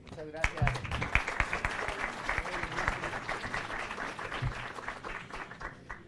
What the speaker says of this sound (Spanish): Lo despedimos con un cálido aplauso.